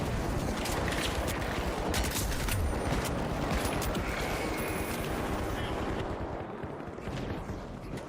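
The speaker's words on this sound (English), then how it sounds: "I cannot believe how much damage that AK is doing to me." An AK rifle fires in THE FINALS video game, dense bursts of rapid gunshots in a loud, chaotic firefight that thins out near the end, with other game noise mixed in.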